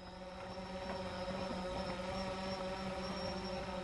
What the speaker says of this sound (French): C'est le drone de la course.